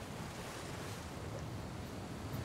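Winter sea surf on a cold shore at night, a continuous broad wash of waves mixed with wind buffeting the microphone, steady and moderately loud with no voices.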